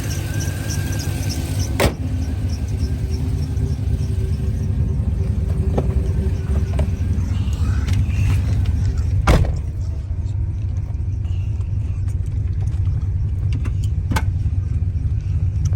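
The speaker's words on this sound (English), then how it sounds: "I'm pretty sure the noise is coming from the alternator." A Silverado truck fitted with a Huron Speed T4 turbo kit idles with a steady low engine rumble, and a faint alternator belt squeal runs through it with a few sharp knocks, and no talking.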